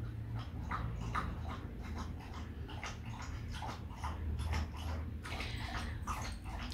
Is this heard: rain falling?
no